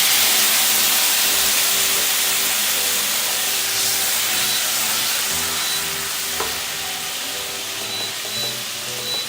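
Water added to hot tempering with green and dried red chillies and curry leaves for bottle-gourd muthiya, giving a loud steady sizzle and hiss of steam that eases slightly toward the end, with no talk.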